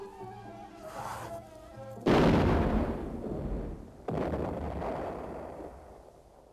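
Two loud, booming cannon shots fire about two seconds apart, each followed by a long rumbling decay, after a softer tonal hum.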